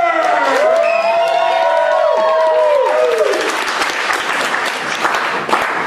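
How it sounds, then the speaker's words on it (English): Loud audience applause with cheering and whoops rising at once and continuing steadily, a live crowd at a literary competition event welcoming a performer onto the stage. "a round of applause for Sarah Griffin!"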